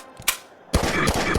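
Gunfire in the Siren Head horror survival game: a couple of sharp single shots, then a sustained burst of rapid automatic fire, loud and close.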